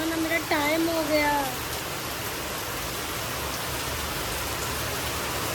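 Heavy monsoon rain pouring steadily in a thick, hissing wash, with someone briefly speaking over it at the start before the downpour continues alone.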